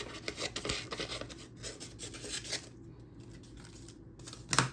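Scissors cutting paper while making a scrapbooking memory kit, with a close run of crisp snipping and rustling strokes, a quieter pause, then a sharp final snip.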